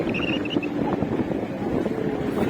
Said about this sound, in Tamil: காத்து வேற சிலு சிலு சிலு சிலு அடிக்குதுங்க.